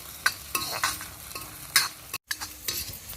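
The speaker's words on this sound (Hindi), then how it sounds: "ये हमने अदरक लहसुन प्याज सब भून लिए हैं" Ginger, garlic and onion frying in a pan, with soft sizzling and repeated scraping stir strokes, close and fairly quiet, with a brief silent gap midway.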